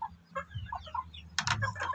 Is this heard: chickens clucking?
yes